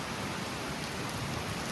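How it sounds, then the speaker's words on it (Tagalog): Heavy rain pours down beside the swollen Marikina River, a dense, steady roar of hissing water, loud and unbroken over the brief moment. "Lakas talaga ng ulan, no?"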